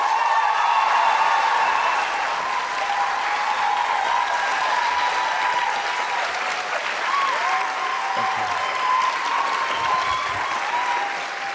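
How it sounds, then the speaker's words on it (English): A large audience applauds steadily for Jenna Coleman and Peter Capaldi arriving at a Doctor Who interview event in Berlin, with dense, loud, sustained clapping filling the room throughout. "please welcome with a big round of applause"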